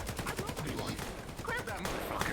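Rapid machine-gun bursts crackle through a VR roleplay gang shootout, dense and steady across the moment, with voices talking over the firing.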